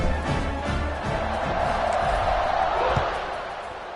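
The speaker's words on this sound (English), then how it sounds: "They're set to kick it off, and this crowd now ready to get behind them." A college football stadium crowd at a Minnesota vs Boise State game roars steadily around kickoff, a dense, sustained wall of cheering with a few sharper shouts and thuds rising out of it.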